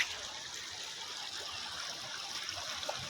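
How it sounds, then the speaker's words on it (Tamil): Water rushing along a stream-like channel on a government orange and vegetable farm in Nelliyampathy, a soft, steady burbling flow heard from close by with no talking over it. "பயங்கரமாக ஓடுது பாருங்கள் தண்ணி."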